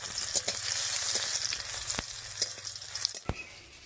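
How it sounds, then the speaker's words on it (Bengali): Dried red chillies, nigella seeds and crushed garlic sizzle in hot mustard oil for a Bengali bottle gourd greens dish, a steady close crackle with a few sharp spoon taps against the pan. "তেলের উপরে দিয়ে দিচ্ছি 2টি শুকনো লঙ্কা, 1/2 চামচ কালো জিরা, আর দেবো কয়েক কোয়া থেতো করা রসুন।"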